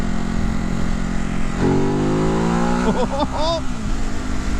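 A 2019 Ducati Hypermotard 950 engine surges with rising pitch as it accelerates through gears, loud and close, with wind noise and a voice speaking partway through.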